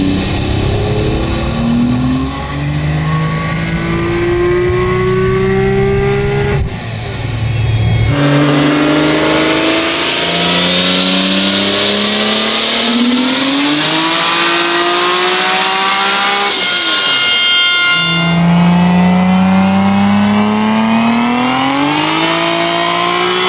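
A 1500 hp Dodge Dart with a 3.2-liter 2JZ stroker engine roars through a full dyno pull at about 20 psi of boost, loud and close, its pitch climbing steadily through long revving sweeps with brief gaps as the pull restarts.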